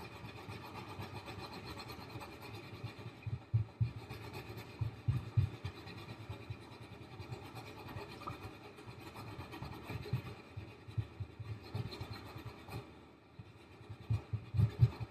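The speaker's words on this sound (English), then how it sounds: "I'm going to prepare the eraser" An eraser rubs out a drawing on paper in short scratchy back-and-forth bursts, close and faint, repeating irregularly over a quiet background.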